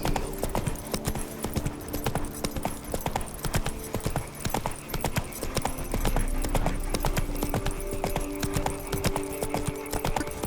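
Horse hooves clip-clopping at a steady gallop in The Witcher 3: Blood and Wine, a continuous rhythmic patter close by with faint ambient game sound behind it.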